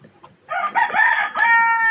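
A Basilan native rooster crows once, close and loud, its drawn-out, wavering call rising and falling over a quiet farmyard background.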